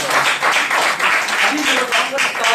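An audience at a business event in Shankargarh, India claps together in a steady, loud burst of applause with a rhythmic, pulsing quality, continuing without pause.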